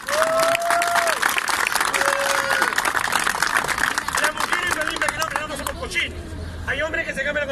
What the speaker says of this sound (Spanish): Aplausos para Chile.